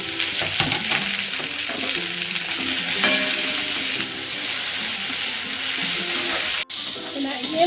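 Okra sautéing in a hot pan with asafoetida, curry leaves and green chillies sizzles and crackles steadily, with a stirring clatter and one brief scrape near the end, close and without talk.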